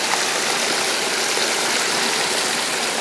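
A recirculator pump running while water rushes down a sluice for high banking, a loud, steady hissing wash of flowing water with a faint engine drone beneath, unbroken and close.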